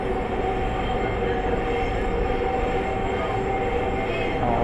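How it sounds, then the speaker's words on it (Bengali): A Dhaka metro rail train runs steadily on an elevated track between Motijheel and Mirpur, its continuous rumble and faint wheel squeal heard from inside the carriage without a break. "মেট্রো রেলের আমাদের মেট্রো তো উপর দিয়ে যায়"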